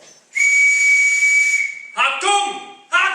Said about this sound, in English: When you hear this whistle, you will come to attention.